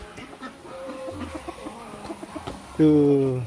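Chickens cluck softly in the background, then a loud, drawn-out bird call cuts in near the end; a voice speaks briefly.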